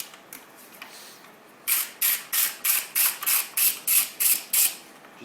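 Ratchet wrench with a 10mm socket loosening a chain guard bolt on a 2009 Kawasaki Ninja 250, giving ten quick, evenly spaced clicking bursts close up after a faint start, with no talking.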